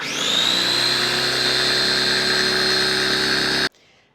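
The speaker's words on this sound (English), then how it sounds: "I'm using my KitchenAid mini chopper" A KitchenAid mini chopper whizzes egg yolks for blender hollandaise, a loud steady high-pitched motor whine running continuously for several seconds before cutting off abruptly.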